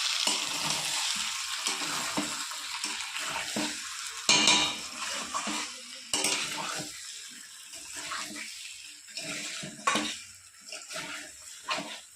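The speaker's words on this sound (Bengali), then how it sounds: "আমি ভালো মতো মটরশুঁটি দিয়ে কষিয়ে নিয়েছি" Green peas sautéing in a pan for a Kashmiri aloo dum, a continuous close sizzle with irregular stirring scrapes and clatters throughout, with no talk.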